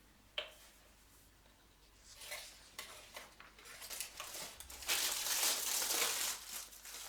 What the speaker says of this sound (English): Then I trim off the excess pastry.